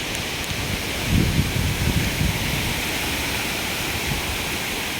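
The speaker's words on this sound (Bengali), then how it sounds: "বাতাস বৃষ্টি।" Wind and rain during Cyclone Remal form a steady hiss of falling rain, with a brief gusty surge of wind rumbling through the middle.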